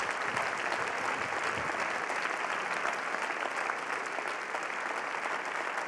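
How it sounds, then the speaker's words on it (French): A television game-show studio audience applauding a new presenter onto the stage, a steady, even wash of clapping that holds at the same level for the whole stretch without any talk. "Vous l'applaudissez."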